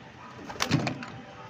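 A racing pigeon returning home gives a short, soft, close cooing call, a low throaty burble lasting under a second against quiet background.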